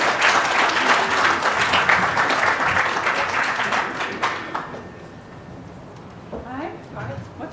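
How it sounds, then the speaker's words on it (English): Big round of audience applause during a nutrition talk, loud continuous clapping from a crowd for about four seconds before fading out into quieter room sound with faint talk. "Big applause."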